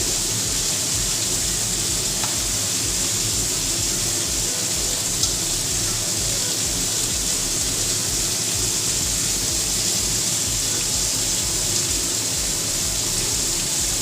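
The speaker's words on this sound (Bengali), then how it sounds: "এবার এর মধ্যে পরিমাণ মতো জলটা দিয়ে দিচ্ছি" Water poured into a pan of pabda fish curry with fried fish and dried spices rushes and sizzles in a steady, even gush for the whole stretch, close and fairly loud.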